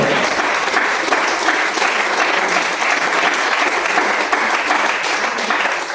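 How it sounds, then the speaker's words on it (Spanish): A church congregation applauds loudly after a sermon passage, a thick, continuous roar of many hands clapping that holds steady for several seconds, with a faint voice underneath. "Denle un fuerte aplauso."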